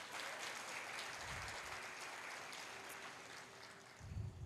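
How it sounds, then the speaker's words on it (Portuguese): A church congregation applauding during a family worship service, a broad steady wash of clapping that fills the room, fairly faint and distant, with no voices on top. "Você pode aplaudir Jesus por você não ser Tomé?"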